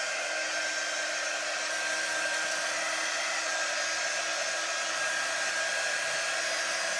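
A hair dryer runs steadily and fairly loud, drying a chalk-painted Easter craft figure, with a constant whooshing airflow and a faint motor whine throughout and no talking.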